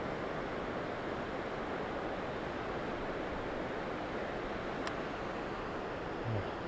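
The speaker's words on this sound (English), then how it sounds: "Down there's a creek that I'm paralleling." A creek runs below an off-trail ridge in the woods, heard as a steady broadband rush of flowing water, distant but constant, with a faint click or two and no voices.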